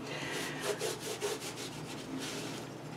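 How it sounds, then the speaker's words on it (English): Repeated rubbing strokes of a cloth wiping fingerprints off the surface of a painting, a steady close scrubbing texture with soft rhythmic pulses throughout. "I'm just going to wipe out my fingerprints."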